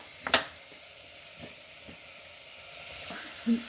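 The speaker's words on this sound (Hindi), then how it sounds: "तो हम इसमें थोड़ा केचप भी डालेंगे" Tomato ketchup going into vegetable manchurian frying in a pan: a steady close sizzle and hiss with a few soft clicks and stirring taps scattered through it.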